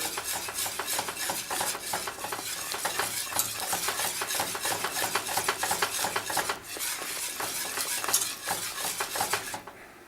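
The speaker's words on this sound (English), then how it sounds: "I'm going to continue to whisk through for just a little bit longer." A whisk beats rapidly through Alfredo sauce in a pan just taken off the heat, a fast, continuous rhythmic clatter of wire against metal that stays steady for about ten seconds before stopping, with no talking.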